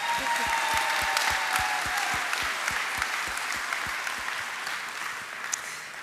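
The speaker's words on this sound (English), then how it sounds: "so round of applause for that." Audience applause at a graduation ceremony: steady, dense clapping from a large crowd throughout, holding even and then easing off slightly toward the end.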